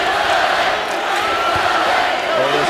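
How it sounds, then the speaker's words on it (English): Loud basketball arena crowd yelling and screaming in unison during opposing free throws, a dense sustained roar filling the space with voices throughout. "they're screaming Chick-fil-A because if they miss both free throws, the crowd actually gets Chick-fil-A"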